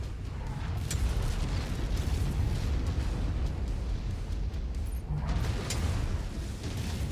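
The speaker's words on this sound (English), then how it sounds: "I literally can't hear myself think of these things blasting around me" Orbital guns and artillery cannons blasting in the MechWarrior 5 video game, a dense continuous roar of heavy booms and rumbling explosions, loud and close throughout with no letup.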